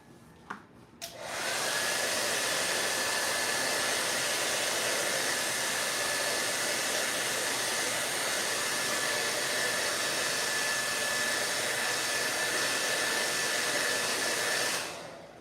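A hair dryer switches on after a couple of handling knocks and blows a steady, loud whooshing airflow over a fresh acrylic painting for about thirteen seconds before winding down.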